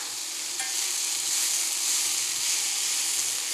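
Goji berries added to a sauté pan: a steady, bright sizzle of frying with faint stirring, close and continuous throughout.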